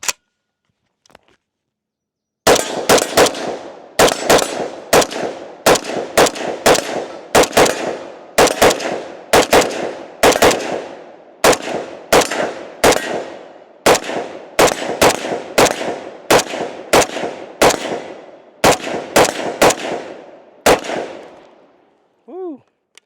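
Rapid, loud rifle shots from a Zastava M92 fitted with a muzzle brake, roughly thirty sharp cracks in quick uneven succession outdoors. Each report is close and harsh, and a brief faint voice follows at the end.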